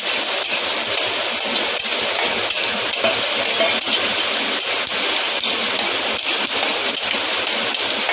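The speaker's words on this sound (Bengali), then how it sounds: "তেলটা গরম হয়ে এসছে এখন সম্বারটা আমি দিয়ে দেবো" Mustard seeds, nigella and dried red chilli tempering in hot oil for chaltar dal, a loud, dense crackling sizzle with constant popping spatters that holds steady throughout, with no voices.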